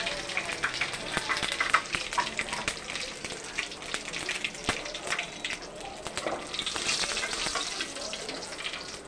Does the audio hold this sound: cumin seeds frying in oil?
yes